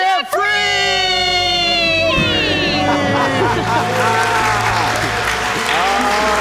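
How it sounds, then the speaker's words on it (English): A couple lets out a loud debt-free scream together, then a crowd cheers and claps, with shrill sustained yelling over dense applause that carries on to the end. "Let's hear a debt-free scream."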